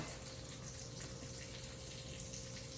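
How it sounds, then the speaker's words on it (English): Water from a pot of boiled potatoes pours out steadily into a sink, a constant dense rushing splash with no pauses. "So I just drained out all the water, put them back in the pot"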